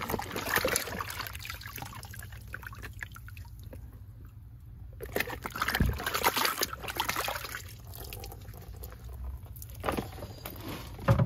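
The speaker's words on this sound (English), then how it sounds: "You just literally just dip them in the water" Vehicle floor mats are dipped into water, giving bursts of sloshing and trickling that come and go across the clip, fairly close and moderately quiet.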